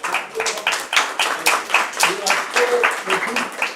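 Scattered audience clapping at an evening IT meetup, irregular claps from a modest crowd, fairly close and steady for a few seconds with no one talking over it.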